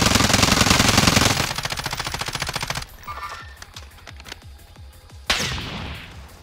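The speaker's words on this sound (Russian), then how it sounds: "Стреляет с той стороны." Gunfire in Call of Duty Warzone: a long, loud burst of rapid automatic fire that slows into a string of distinct shots, then a brief pause and another sharp blast.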